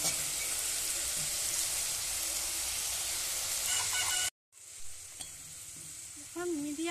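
Kalo jam sweets made with red potato fry in oil over a medium flame, giving a dense, steady sizzle. It breaks off briefly, then resumes more faintly, with a rooster crowing in the background.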